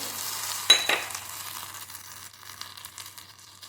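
Oil heats in a small pan for tempering mango sambar, giving a faint steady sizzle with a couple of sharp crackling bursts early on, then a soft continuing hiss.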